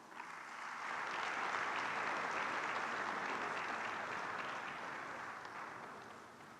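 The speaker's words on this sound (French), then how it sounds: "Que vos applaudissements accompagnent Monsieur le ministre" An audience applauds at the opening ceremony of an environment and security forum for Africa in an Abidjan hotel, a dense steady round of clapping that swells in, holds, then slowly eases off.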